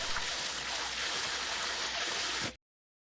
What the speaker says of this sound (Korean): 씻지 않고 삶았기 때문에 3, 4회 흐르는 물로 헹구어내는 게 좋아요